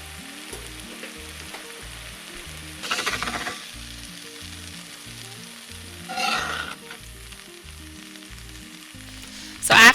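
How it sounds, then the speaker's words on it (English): Tomatoes sizzle steadily in a seasoned cast iron skillet, a quiet continuous frying hiss with a few louder bursts of spattering and stirring, ending in a sharp clatter. "the key to cooking tomatoes or other foods that have acid in them in your cast iron"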